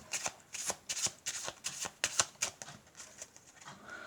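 Cards being shuffled close up, a quick riffling patter of soft flicks and taps over a few seconds, no voices.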